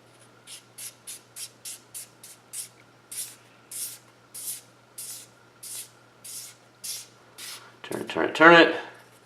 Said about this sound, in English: So if you insert the spanner tool here, these are standard right-hand threads, so